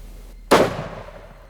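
A single rifle shot during a leopard hunt in Tanzania rings out loud and close after a brief hush, then echoes and fades outdoors.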